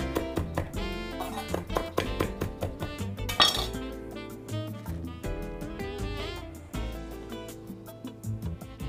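Fresh dill and parsley tossed into a Greek salad in a bowl with kalamata olives, giving a steady run of clinks and taps of utensils against the dish, close and fairly busy throughout with no talk.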